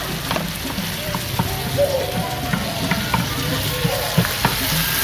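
Tutut snails frying in a pan with spices, lime leaves and lemongrass, giving a constant loud sizzle. Scraping stirs break in now and then, close up, with no talk.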